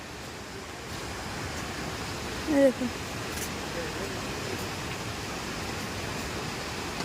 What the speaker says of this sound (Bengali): দেখুন ঝর্ণা সামনেই ওই যে ঝর্ণা দাঁড়ান দেখাচ্ছি ওই দেখুন ওই দেখুন ঝর্ণা